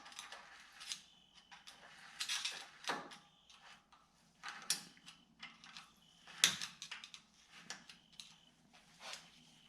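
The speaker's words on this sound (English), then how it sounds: "Right in with the screwdriver." Screwdriver working a locking ring nut onto the rear hub of a GMC 3500 dually, a string of close, sharp metallic clicks, scrapes and taps at irregular intervals with quiet gaps between.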